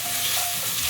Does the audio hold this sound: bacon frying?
yes